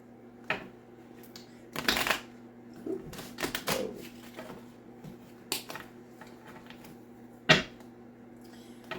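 Tarot cards shuffled in a few quick bursts, crisp riffling flutters and sharp snaps separated by pauses, close and fairly quiet over a faint steady hum.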